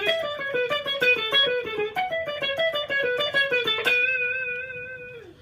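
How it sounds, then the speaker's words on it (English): Electric guitar picking a fast descending minor-scale sequence in groups of four notes, bright and close with no talk, ending on a single sustained note that fades out. "we're going to descend 4 notes at a time until we reach the last note in our pattern"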